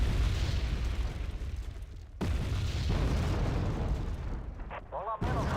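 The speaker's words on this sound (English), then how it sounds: "as soon as any anti-air fires, it's just a stream of mortars and stuff" Continuous barrage of mortar and artillery-style explosions in the war strategy game Wargame Red Dragon, dense overlapping booms rolling without pause, loud and close, with a brief lull near the middle and a voice talking over it.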